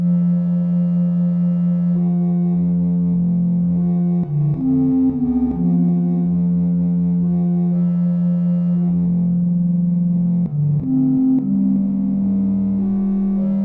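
Elektron Syntakt synth patch with its reverb send modulated at audio rate, producing a droning, buzzy tone with gliding pitch changes and distorted, warbling overtones, loud and continuous with no talking.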